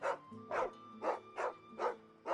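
Dog barking in Final Fantasy XIV, six evenly spaced, fairly loud barks in a steady rhythm over a faint tonal game background, with no talk.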